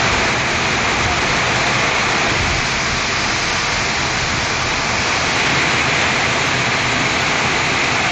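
Heavy night-time rain driven by wind in villages around Aranthangi, Pudukkottai district, a dense, loud, unbroken roar of downpour that holds steady throughout with no voices.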